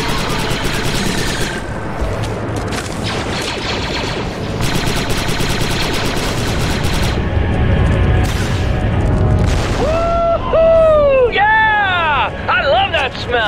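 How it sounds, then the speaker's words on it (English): Explosions and rapid gunfire from the video game Star Wars: Republic Commando, dense and loud throughout with booming blasts and bursts of shots, plus sweeping synthetic tones near the end and game voices talking over the action. "3-8, my scanners show an explosion."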